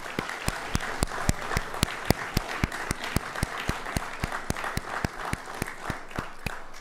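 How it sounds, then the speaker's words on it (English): An audience at a university athletic hall of fame induction ceremony applauds with steady, fairly even clapping from a moderately distant crowd, lasting the whole stretch without voices. "How about another round of applause for all of our inductees?"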